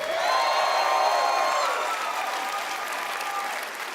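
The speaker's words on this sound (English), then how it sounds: "Another round of applause, please" Large audience at Bethesda's E3 2018 show giving sustained applause with cheers and whoops, a loud crowd roar that fades slightly toward the end.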